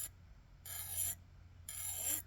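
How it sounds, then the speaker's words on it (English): A hand file sharpening a hatchet blade with light pressure, two rasping strokes spaced about a second apart, close and fairly quiet. "hardly pushing any force on this file"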